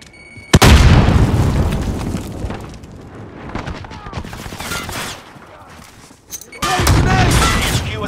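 A grenade explodes in a Call of Duty: Modern Warfare match with heavy booming blasts, one near the start and another late, amid continuous gunfire and battle noise, loud and close, under voice callouts.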